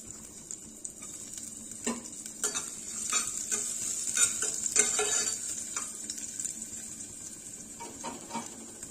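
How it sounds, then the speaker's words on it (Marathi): Finely chopped garlic and ginger fry in hot oil with cumin seeds for a ragi soup, sizzling steadily while a spoon stirs and scrapes the pan at irregular intervals. No one speaks. "जिरे छान फुलले की यामध्ये आपल्याला घालायचं आहे बारीक कट केलेलं लसूण आणि आलं।"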